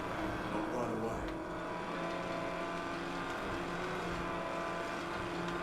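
Buggy engine in the Mad Max video game: a continuous loud motor drone with rumbling, racing tones as the vehicle speeds along, steady throughout.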